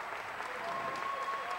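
A high school wrestling crowd applauds in a gym, a dense, steady wash of clapping that holds at an even level throughout.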